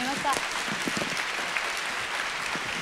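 Audience applause for a Japanese singer at a live concert, a steady dense clapping wash throughout with voices murmuring underneath.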